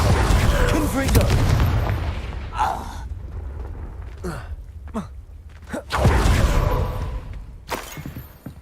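A Confringo blasting spell goes off in the Hogwarts Legacy video game: loud booming bursts with rumbling tails, several heavy blasts spaced a second or two apart, with faint voices and game sounds between them.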